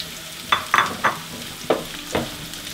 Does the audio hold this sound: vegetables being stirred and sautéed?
yes